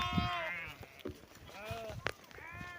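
Several sheep bleat close by, wavering calls overlapping one another, with some rustling and shuffling in between.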